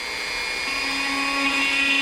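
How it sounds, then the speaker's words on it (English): A Dremel rotary tool drilling a hole through a clay pot spins at a high steady whine close by, its pitch shifting slightly as the bit bites in. "all I got is a Dremel. I don't actually own a drill. So I'm going to drill 1 hole"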